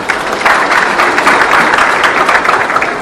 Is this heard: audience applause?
yes